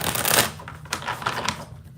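A brief riffle of tarot cards being shuffled, a quick papery flutter followed by a few softer taps, close and quiet.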